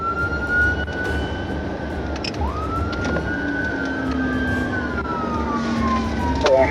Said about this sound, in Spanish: Las luces y sirenas sonaron.